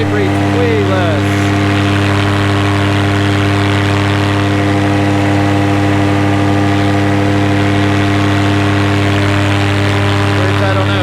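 A Vittorazi Moster 185 MY-20 paramotor engine runs in flight with a loud, steady, smooth drone that holds throughout without a break.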